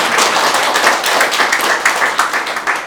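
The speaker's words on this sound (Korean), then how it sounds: "이때 박수 치는 거예요." Crowd applause at a political rally for a presidential candidate: dense, steady clapping from many hands, loud and continuous for a few seconds with no speech over it.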